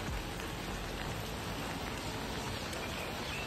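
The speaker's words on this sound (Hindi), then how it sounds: "सुबह से अभी भी बारिश हो रहा है।" Steady rain falls outdoors on a wet morning in Agartala, a dense, even patter of drops on surfaces that continues without a break, close and fairly loud, with no voices over it.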